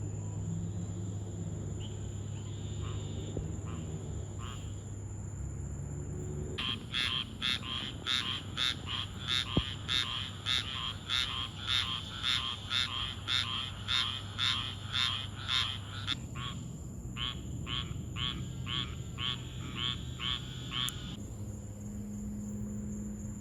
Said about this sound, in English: Cricket frog right there with no patterning on the back.